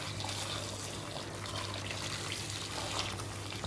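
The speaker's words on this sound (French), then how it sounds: "Je verse l'eau chaude." Hot water poured over a gutted, rinsed scaleless fish, a steady, dense liquid rush heard close and continuous with no talk over it.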